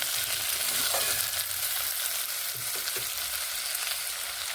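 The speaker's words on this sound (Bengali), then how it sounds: "নুন মিশিয়ে আলুগুলোকে বেশ ভালোভাবে ভেজে নেব" Potatoes frying with salt in a pan give a steady, close sizzle and crackle, with occasional light stirring knocks and no voices.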